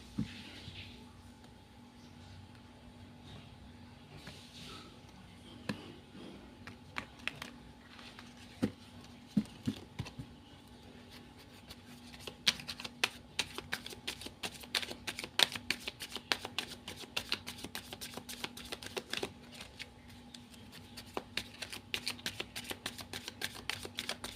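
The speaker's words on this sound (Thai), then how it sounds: "ขออนุญาตสับไพ่ให้คุณก่อนเนาะ" Tarot cards are shuffled close by, their riffling building into rapid, dense papery clicks in the latter half, with a faint voice speaking softly at times.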